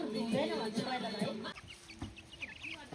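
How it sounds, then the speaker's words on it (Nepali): Village chickens cluck in short, repeated bursts close by in rural Nepal, with busy background chatter and other voices mixed through the scene. "कुखुराहरू"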